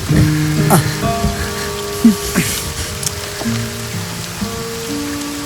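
Steady rain patters on a surface with a hissing wash, a few louder drips and faint tonal hums mixed into the background.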